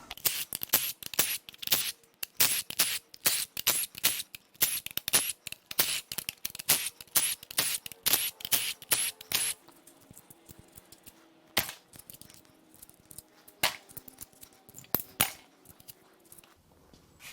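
An impact or power tool zips out 10 mm bolts on a 1.6L Hyundai/Kia Gamma II GDI engine during a teardown, giving rapid sharp bursts of ratcheting clatter, dense at first and then sparser with gaps.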